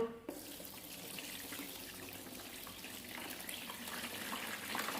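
Water pours steadily from a tap into a Medisana foot spa basin, a continuous splashing rush, close and unbroken throughout.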